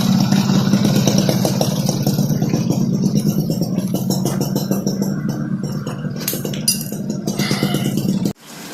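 A motorcycle engine fitted with its original Mikuni carburetor runs steadily and loud at close range, a rapid even throb with metallic clinks, before cutting off abruptly near the end.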